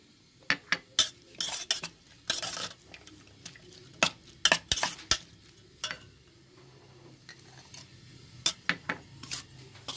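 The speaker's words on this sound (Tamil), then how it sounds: "கிளறி விட்டுக்கலாம்" Curd being stirred into onion raita in a bowl, with a spoon clinking and scraping against the dish in irregular bursts, close and clear with no talking.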